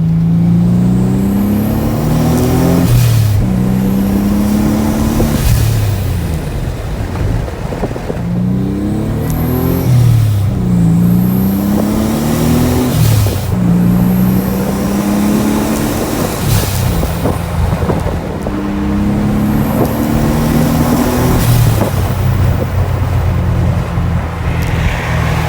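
Nissan Z31 engine revs hard in repeated pulls through the gears, each climbing whine cut short by a shift, loud and continuous with road noise underneath.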